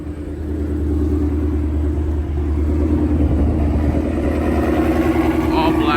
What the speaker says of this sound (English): So I'm about to get a cold start.